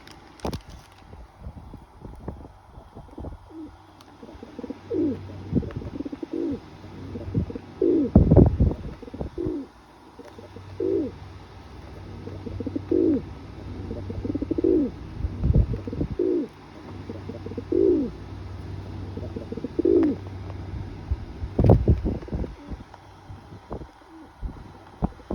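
A pigeon coos in a steady series of soft, repeated calls close by, with low wind rumble underneath and no talking.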